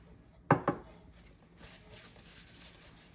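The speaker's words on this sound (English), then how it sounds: "So those get stirred in." Nuts stirred into pound cake batter in a bowl, two quick close clinks of a utensil against the bowl followed by soft scraping and mixing sounds.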